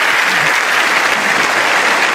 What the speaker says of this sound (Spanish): Ese aplauso es para todos los que siembran